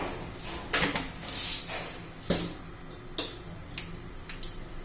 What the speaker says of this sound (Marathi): जिरं मोहरी चांगली तडतडून घ्यायची आपल्याला